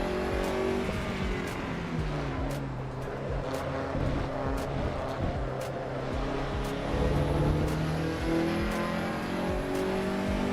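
A Lancia race car engine in a driving simulator game roars and revs continuously, rising and falling with gear shifts, a loud, steady mechanical drone throughout.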